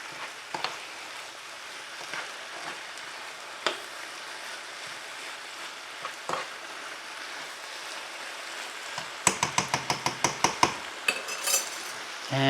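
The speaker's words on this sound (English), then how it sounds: "Go ahead and stir it around." A pot of charro beans with a pinch of salt is stirred, with occasional spoon knocks against the pot and then a rapid burst of scraping, clacking strokes near the end.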